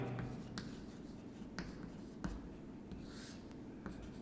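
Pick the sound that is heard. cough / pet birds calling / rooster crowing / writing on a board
writing on a board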